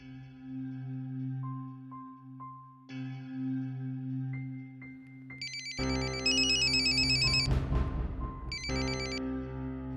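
A phone ringtone breaks in partway through, a loud electronic melody repeating its bright pattern over quieter tones heard beforehand, in a TV drama scene.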